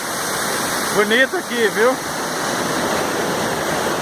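Cachoeira 3 Barras waterfall on the road to Conceição do Mato Dentro, Minas Gerais, roaring as a constant broadband rush; someone speaks briefly over it.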